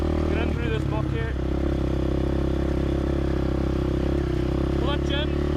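A race quad ATV engine runs steadily and close as the rider works the clutch and gear selector in muddy ground, with a brief clattering shift near the start and faint squeaks, no speech.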